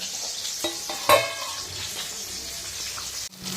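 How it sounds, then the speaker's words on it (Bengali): Prawns frying in a pan give a steady, close sizzle that runs throughout, with a brief clatter near the middle and a short dip close to the end. "এদিকে দেখো চিংড়ি মাছগুলো ভেজে নিচ্ছে"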